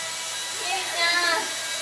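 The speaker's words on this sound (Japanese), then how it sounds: "いつもこんなとこでドライヤーせえへんから。" A handheld hair dryer blows with a steady, airy whoosh indoors at home, while voices talk over it.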